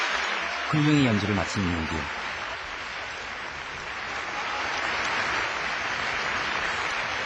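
A standing ovation for a Korean youth orchestra, the Daegu gifted orchestra, after a concert in Spain. Someone speaks briefly over the start, then dense, steady applause fills the hall and carries on to the end.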